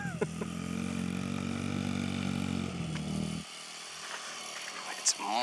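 A child's dirt bike engine revs steadily and loudly close by in mud, holding a droning buzz for about three seconds before cutting off, followed by quieter background sound.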